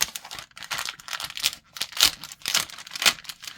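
Close, crisp snipping and crinkling as scissors cut wallpaper in quick irregular bursts, separated by brief pauses, with no one talking.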